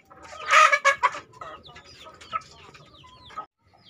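Free-range village chickens clucking and squawking nearby, with a loud burst of overlapping calls early on followed by scattered softer clucks and chirps, no talk.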